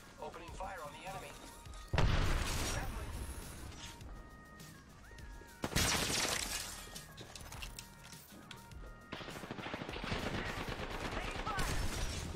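Apex Legends gunfire comes in bursts of rapid shots and heavy impacts over a busy game soundscape, with voices speaking at times.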